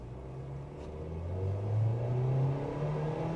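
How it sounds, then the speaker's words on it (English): A 2024 Nissan Versa sedan pulls away from a stoplight, its engine droning and rising steadily in pitch as it accelerates, heard from inside the car without talking. "I'm going to check out some of the acceleration, see if it's going to be safe merging in traffic if you need it to."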